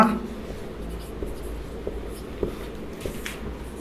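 Pen scratching across paper while working a math problem, close and steady with soft strokes and small taps, over faint room noise.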